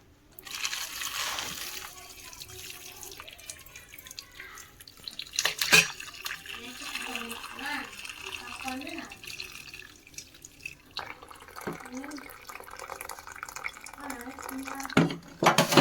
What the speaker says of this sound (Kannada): ಬೇಳೆ ನೀರು ಬಸ್ಕೊಳ್ಳೋಣ ಬನ್ನಿ ಫ್ರೆಂಡ್